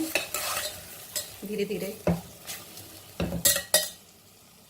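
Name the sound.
stirring okra frying in a pan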